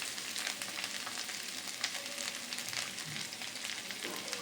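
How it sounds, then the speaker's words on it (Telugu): Fresh coriander leaves fry in hot oil in a pan for a pickle, giving a steady, close crackling sizzle that runs unbroken throughout with no talking. "రెండు స్పూన్లు ఆయిల్ తీసుకుని వేగిన తర్వాత వేడైన తర్వాత ఆయిల్ ఈ కొత్తిమీర వేసి వేయించుకుందాం"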